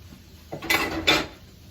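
Macaroni and broccoli being stirred in a pot, two quick scraping clanks of a utensil against the metal, close and brief over a quiet kitchen.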